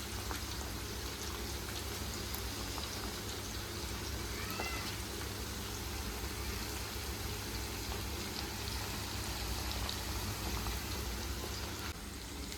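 Chicken pakodi deep-frying in hot oil, giving a steady, dense sizzle and crackle that runs unbroken from start to finish at close range, with no talking over it.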